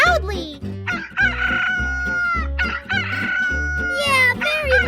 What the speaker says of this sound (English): The cock crows very loudly.